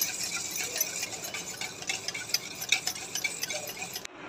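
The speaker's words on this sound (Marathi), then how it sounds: "भिजवलेलं बेसन आपण ताकात टाकून देऊया। परत एकदा छान प्रकारे मिक्स करून घेऊ।" Soaked gram flour batter stirred into buttermilk for Marathi-style kadhi, giving soft, close, continuous scraping and light clinking of a spoon against the pot, with a brief pause near the end.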